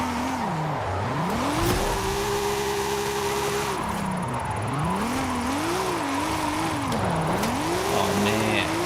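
Engine of a tiny JDM drift car in Forza Horizon 5, revving and sweeping up and down in pitch through the gears with tire squeal, loud and continuous under someone talking.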